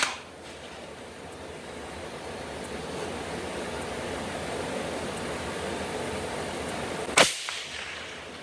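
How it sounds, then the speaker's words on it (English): A single sharp rifle shot cracks out near the end, fired in calm, windless conditions over a steady broadband hiss of background noise, with a short decay afterward. "Now I'm going to shoot it at no wind."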